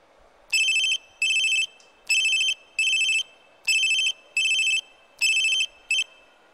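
A telephone rings in repeated electronic trill bursts, paired in a steady double-ring pattern, loud and close with no voices, four pairs in a row with the last cut short.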